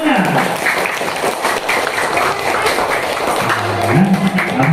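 A schoolroom full of students claps together in a loud, busy burst of applause lasting a few seconds, with children's voices mixed in.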